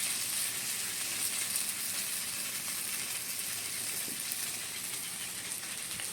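Fish curry with taro root and chili powder frying in a pan gives off a steady, quiet, even sizzle that holds without a break, with no voices.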